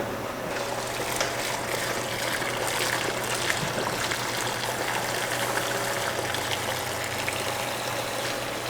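Liquid siphoned off the bottom of a home brewing vessel at a small brewery in Samara, Costa Rica, a steady close trickle and gurgle running the whole time over a constant low hum.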